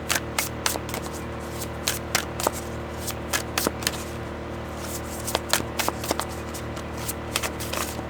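Tarot cards being shuffled up close: repeated quick riffling bursts and soft snaps in an irregular rhythm, with no talking.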